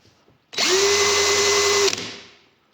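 A Parkside PABS 20 Li G8 cordless drill spins up and runs at a steady whine for just over a second, loud and close, then cuts off and winds down; no talking.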